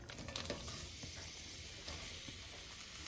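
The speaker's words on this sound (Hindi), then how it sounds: "ये प्याज को हम गोल्डन ब्राउन होने तक भून लेंगे" Chopped onions fry in two spoons of oil in a heated pan, giving a steady, faint sizzling hiss with small crackles throughout and no voices.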